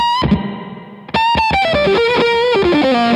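Electric guitar through an original Carl Martin HeadRoom spring reverb pedal: a single plucked note ringing into a sustained wash, then a run of descending distorted notes with a lush, splashy reverb tail.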